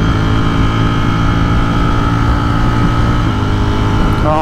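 A Streetfighter motorcycle engine under steady acceleration with a quick shifter, a loud continuous droning roar with dense low harmonics and heavy wind rush, ending in a brief rising tone.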